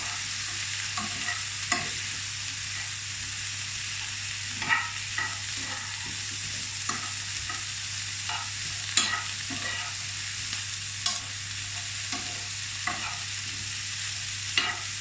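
Sweet potato and peppers soften in a frying pan, giving a steady low sizzle with scattered clicks and scrapes of stirring across the whole stretch, moderately close and without talk.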